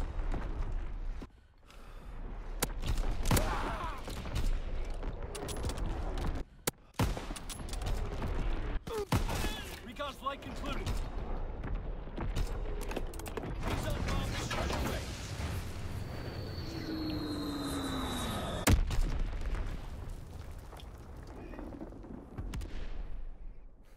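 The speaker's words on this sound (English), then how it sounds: "Firing division artillery." Division artillery barrage in Battlefield 1 on the Springfield map, a long run of booming gunfire and heavy blasts at varied distances, some sharp and loud, others rumbling, with brief quiet gaps between volleys.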